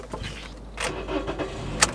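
A car engine cranks and catches, rumbling briefly before settling, with a sharp click near the end.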